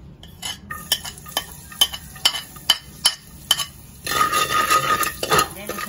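Ginger sautéing in rendered pork fat for Bicol Express, with sharp metal spatula strikes against the pan ringing out at a steady pace before a louder, denser sizzle takes over near the end.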